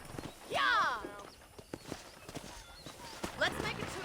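Horse hooves clip-clop on a ranch in the Red Dead Redemption video game, a steady walking rhythm of moderate loudness with two brief whinnies, while people talk over it.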